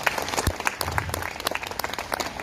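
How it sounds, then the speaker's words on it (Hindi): A gathered crowd at a political party event claps briefly and loudly, a short burst of dense applause. "एक बार जोरदार अपने लिए तालियां बजाओ।"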